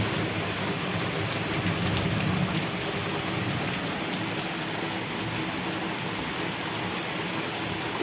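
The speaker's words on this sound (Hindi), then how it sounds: "अब ये बारिश" Steady, heavy rain pours continuously, a dense hiss of drops on surfaces with no pauses and no voices.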